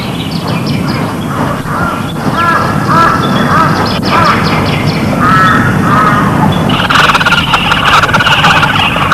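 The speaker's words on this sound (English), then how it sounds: "The chicks' food-begging cries stimulate the adults to feed them." Bird chicks give high, repeated food-begging cries, a close cluster of short chirping calls over dense, steady outdoor background noise.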